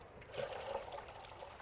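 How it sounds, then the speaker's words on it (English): A small amount of water is poured into a fish trap at a tidal creek, making a faint, soft trickle and splash that runs steadily for a moment. "I'm gonna put a little bit of water in here."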